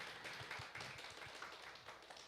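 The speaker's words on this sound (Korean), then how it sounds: "예배를 섬기는 우리 젊은 우리 자녀들에게 박수 한번 해주시면 감사하겠습니다" Church congregation clapping during a Sunday worship service, a quiet, steady patter of many hands heard from a distance, fairly faint and continuous throughout.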